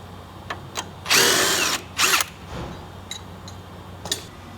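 Power tool loosening the 17mm lower strut bracket bolt on an Acura TSX during a driveshaft and seal replacement: two short, loud whirring bursts, with faint clicks and ticks before and after, no talk.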